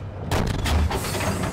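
Tank cannon fire in a tank combat video game: a heavy boom opens abruptly and a loud, low rumbling blast rolls on for over a second, close and dense with no talk over it.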